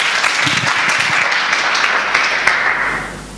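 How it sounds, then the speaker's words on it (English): Audience at the Hacker Hotel 2015 conference claps to welcome a speaker to the stage, sustained clapping from a crowded room that tapers off at the end. "please give him a warm welcome, a round of applause"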